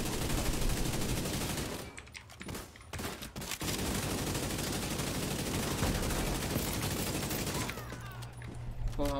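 Dense, rapid gunfire in The Division 2 video game, sustained bursts with brief pauses, loud and close, with faint talking underneath.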